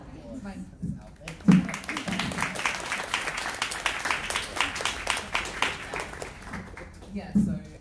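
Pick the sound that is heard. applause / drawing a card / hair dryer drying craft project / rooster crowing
applause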